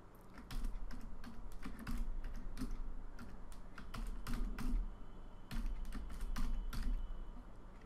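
Steady rapid typing on a computer keyboard while a project name is entered in Android Studio, with a dense run of close clicks and keystrokes and brief pauses between bursts.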